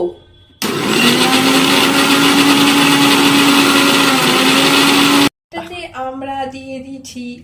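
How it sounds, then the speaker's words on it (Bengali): A mixer grinder blends a cheesecake mixture in a loud, steady high-pitched whir for about five seconds, then cuts off abruptly, followed by someone talking. "এটাকে এখন আবার ব্লেন্ড করে নিতে হবে।"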